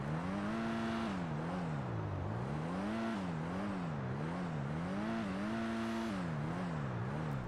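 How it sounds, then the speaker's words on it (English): The engine of a Dinka Kanjo SJ car in GTA 5 revs repeatedly, its pitch climbing and dropping in steady cycles. It stays loud and close throughout, with no talking. "And how does the vehicle sound?"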